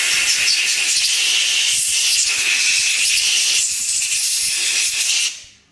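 Compressed air blown hard through the passages of a motorcycle CV carburetor gives a loud, steady hiss that holds for about five seconds and then cuts off sharply.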